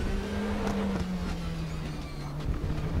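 A race car in the RaceRoom racing game brakes at the end of a straight, its engine note falling steadily as it slows, a sustained mid-level drone with faint tyre and track noise.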